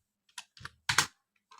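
Several quick keystrokes on a computer keyboard, clicking in short uneven bursts, close and fairly quiet with no talk over them.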